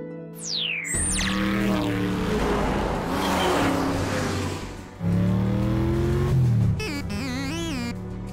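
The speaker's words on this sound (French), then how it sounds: "tu es très agréable à conduire, Bumblebee. Puissant, rapide et souple." Engine of the cartoon car Bumblebee revving and accelerating, with a whooshing sweep at the start and a tire squeal, loud and close, the motor note rising and falling across several seconds.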